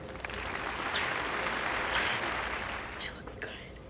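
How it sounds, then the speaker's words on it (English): Applause from a small group greets a sparkly blue Vera Wang gown with a train at the 2021 Met Gala, a steady wash of clapping that thins out near the end while voices talk over it. "round of applause."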